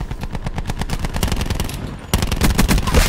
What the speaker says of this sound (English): Look at that submachine gun.